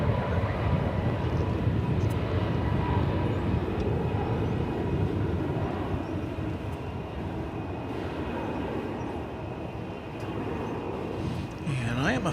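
A Japan Airlines airliner at DFW Airport makes a broad, steady jet roar that rumbles on at a distance and fades slightly toward the end. A voice can be heard faintly under the engine noise.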